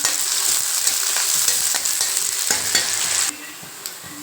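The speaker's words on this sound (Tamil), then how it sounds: "வெங்காயம் நல்லா வதங்கிடுச்சுங்க" Onions sizzle steadily in a hot pan with occasional scraping stirs, loud and close, with no voices.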